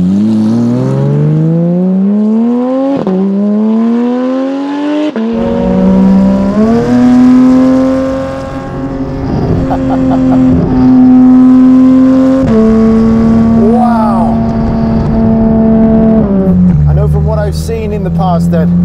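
Straight-piped Porsche 911 GT3 992 by Friedrich Performance Manufaktur, engine loud and close while driving, revving up through gears with rising howls, quick shifts and drops in pitch.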